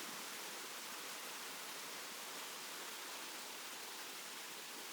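A waterfall in Siquijor pours in a steady, dense broadband rush of flowing water that stays even and unbroken throughout, with no voices.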